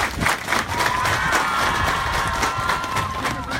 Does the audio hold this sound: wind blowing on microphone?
no